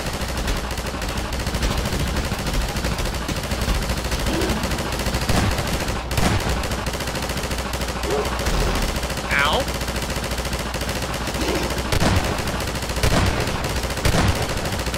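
Sustained automatic gunfire in the co-op shooter Half-Life 2: Episode One, a dense continuous rattle of shots with scattered impacts and game noise, loud and close throughout.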